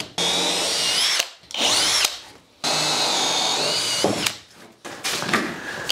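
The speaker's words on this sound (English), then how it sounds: "So it's just a case of drill these out." A power drill with an auger bit whines in several long bursts, rising in pitch as it spins up and bites into wood, with short pauses between holes.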